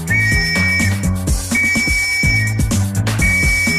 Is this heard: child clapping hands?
no